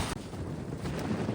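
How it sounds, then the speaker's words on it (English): Steady wind at a campsite roars and buffets against the microphone in a continuous low rumble, close and fairly loud, with no voices. "Hey, Charlie, How do you feel about the wind?"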